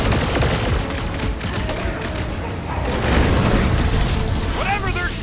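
Enemy blaster fire and booming impacts from Marvel's Guardians of the Galaxy game fill a dense, loud battle mix, with steady shooting and explosions running throughout.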